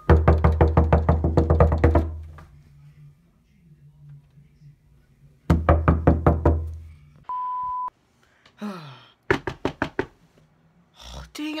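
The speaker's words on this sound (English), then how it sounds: "I'm going to be knocking on his door." Loud, rapid bursts of knocking on a door, two fast rolling series of raps separated by a pause, followed by a short electronic beep, a scraping sound and a few more sharp knocks.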